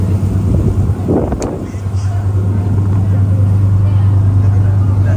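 A large boat's engine drones with a steady low hum under rushing wind and water on the Atlantic, loud and close, with indistinct voices briefly mixed in.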